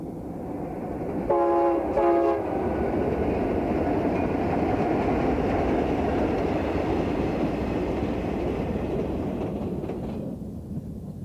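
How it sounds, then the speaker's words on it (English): ATSF freight train from Los Angeles to Fort Worth crossing a bridge on the Arizona desert main line, a steady loud rumble of rolling cars with a brief horn blast near the start, continuing alone without voices. "A new quality service train from LA to Fort Worth, Texas crosses over the bridge."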